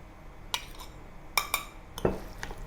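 Beancurd skin roll stuffing of garlic, spring onion, bamboo shoots, cloud fungus and mushroom being mixed in a bowl, with a few sharp utensil clinks against the dish spaced irregularly over quiet background.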